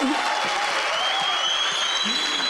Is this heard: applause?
yes